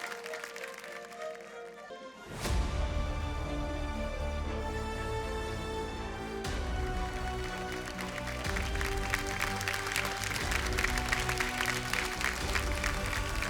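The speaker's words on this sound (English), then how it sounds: "you're going to welcome this moment with a huge round of applause" Audience at the Jagran Film Festival awards ceremony breaking into applause, which rises suddenly and carries on under loud ceremonial music, swelling into a fuller, thicker clapping texture toward the end.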